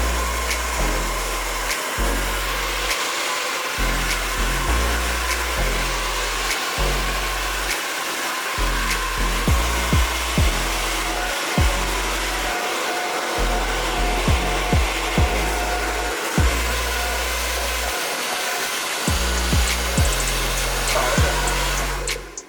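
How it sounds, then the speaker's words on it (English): A handheld hair dryer blow-dries a man's hair into place in a barbershop. Its loud, steady roar runs close and unbroken for over twenty seconds, with slight shifts in tone as it is moved, and no one speaks. "So right now, I've blow dried it into position."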